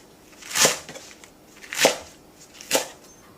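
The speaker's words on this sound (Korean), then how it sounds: "5cm 정도 길이로 썰어주세요" A knife chops through a bunch of garlic chives on a board, three crisp separate cuts spaced about a second apart, close and clear with near silence between.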